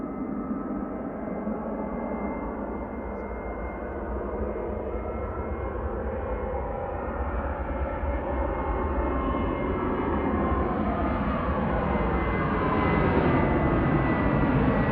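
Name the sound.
KLM airliner on its takeoff roll to Amsterdam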